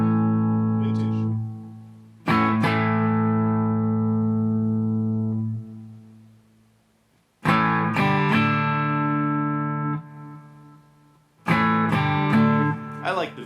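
An electric guitar through a Boss Katana Artist MkII amp on a vintage cab resonance setting, with three loud strummed chords, each ringing out and slowly decaying before the next is struck.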